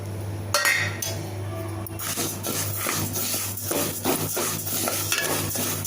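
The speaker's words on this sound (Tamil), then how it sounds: "இப்போது அடிகனமான ஒரு பாத்திரத்தை எடுத்துகிட்டு இப்போ எள்ளை நம்ம வறுத்து எடுத்துக்க போகிறோம்." Sesame seeds being dry-roasted and stirred in a heavy-bottomed pan, with a spoon scraping and clinking against the metal close by over a steady background hum.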